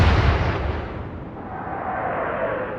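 Naval gunfire and shell hits in the Atlantic Fleet warship video game: one loud, close, booming blast opens the moment, then a long rumbling roar that fades slowly over nearly three seconds.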